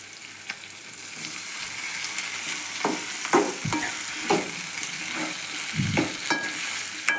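Tomatoes sizzle in hot oil over golden fried onions for a spicy Tamil kara kuzhambu, with a steady close frying hiss and several scraping stirs of a spatula against the pan, no voices.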